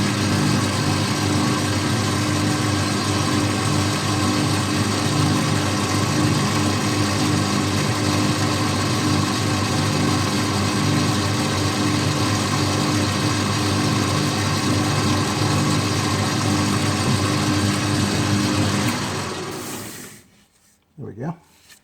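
A lathe drills through a bush for a motorcycle trailer fitting, cutting from one side: a steady, loud mechanical drone runs unbroken for about nineteen seconds, then cuts off abruptly, leaving near silence.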